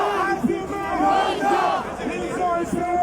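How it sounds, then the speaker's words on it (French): A large crowd at an African diaspora rally in Paris supporting Mali shouts and cheers together in loud, surging waves of massed voices, close and continuous throughout. "Quand notre insu parle, écoutez la foule."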